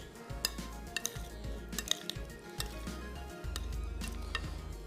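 Pasta salad tossed in a bowl with utensils, soft squishy mixing punctuated by light clinks of metal on the dish, close and quiet, without talk.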